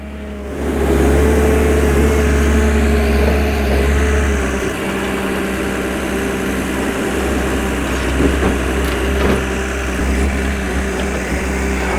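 The engine of a HAAS JD1510E traction winch runs steadily at a constant, unbroken low rumble, loud and close throughout with no drop in revs.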